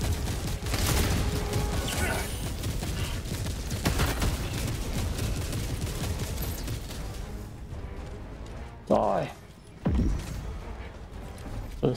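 An orbital barrage strike lands in Helldivers 2 as a dense run of rumbling explosions and rapid gunfire-like blasts. The barrage is loud at first, then thins out into a few separate, more distant impacts.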